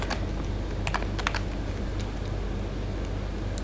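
Someone types Python code on a computer keyboard, producing a quick patter of light plastic key clicks over a steady background hum, with no voices.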